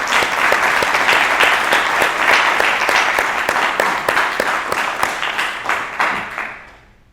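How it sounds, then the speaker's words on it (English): A graduation audience at an enforcement training center gives award recipients a loud, sustained round of applause, dense clapping from many hands that continues steadily before fading out at the end. "Please join me in giving the award recipients a round of applause."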